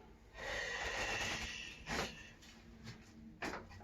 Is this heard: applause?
no